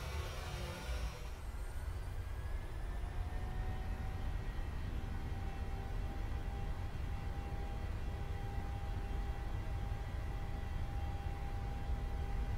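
A Boeing 737 rolls down runway 26 left for takeoff in a flight simulator, with a steady roar of engine noise and a whine that rises in pitch as the jet speeds up.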